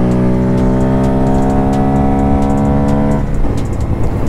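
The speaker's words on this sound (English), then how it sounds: "I think the exhaust that I put on this thing makes the bike sound really good." A 2023 Honda Grom motorcycle with an aftermarket exhaust idles with a deep, throaty exhaust rumble, steady and close, then blips the throttle near the end.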